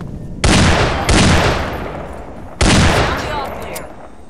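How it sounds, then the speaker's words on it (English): Gunfire from Fallout 3 aimed at a wall: three loud, close bursts of shots, each with a long rumbling decay, the last one trailing into scattered echoing noise. "Shooting the wall."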